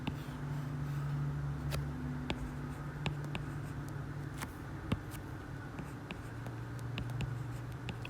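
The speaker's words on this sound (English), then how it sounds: "Just writing all my solutions in set notation." Pen or pencil writing out math solutions in set notation by hand, a soft continuous scratching with faint taps and clicks over a steady low hum, fairly quiet and close, with no talking.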